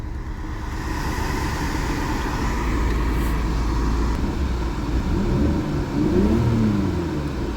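A BMW E46 engine hums at a steady low drone with the AC on, then climbs in pitch as it revs up toward the end under light throttle.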